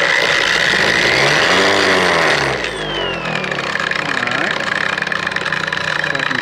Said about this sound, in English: Set a nice intermediate speed there and hope for the best.